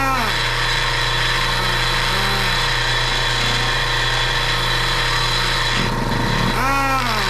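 An air-powered die grinder running a carbide burr hums with a steady, loud whine, then its motor bogs into a rapid pop-pop-pop stutter near the end while someone talks over it.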